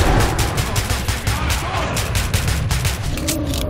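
Rapid gunfire from the video game Metro 2033: dense, continuous bursts of shots, loud and close, filling the whole stretch with repeated sharp cracks and no pause.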